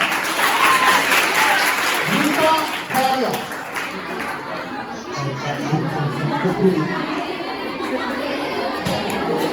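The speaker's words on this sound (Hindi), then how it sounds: "मैम के लिए तालियां।" An audience at an awareness event applauds for a woman, broad clapping mixed with crowd chatter and voices, loud at first and settling into a busier murmur of talk and scattered claps.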